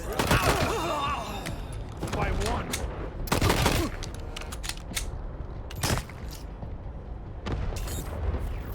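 Gunfire during an ambush in the video game Wasteland 3, with repeated sharp shots and bursts landing over a constant busy background of combat noise, while a voice talks along with it.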